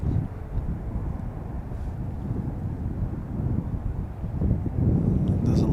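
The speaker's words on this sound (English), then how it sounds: "that's rolling right now, the 737." Boeing 737 rolling down runway 28 right at Chicago O'Hare in gusty wind, a steady low roaring engine rumble swelling slightly toward the end, mixed with wind buffeting on the microphone.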